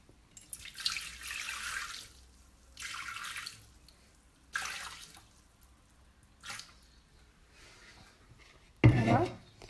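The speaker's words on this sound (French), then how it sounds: "Donc on va commencer par mettre nos 300 g d'eau." Water, 300 g, is poured into a Thermomix bowl in several separate bursts of splashing and trickling, close by with short pauses between.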